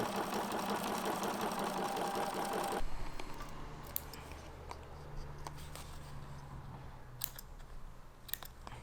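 A sewing machine stitches around the edges of petals made from up-cycled book pages, a steady close whirring burst for about three seconds, then quiet handling clicks and rustles.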